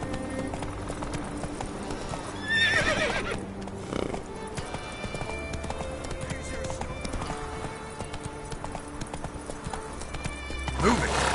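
Horse in The Witcher 3 video game trotting with steady clip-clop hooves under game music and ambience, with a couple of whinnies and character voices speaking over it.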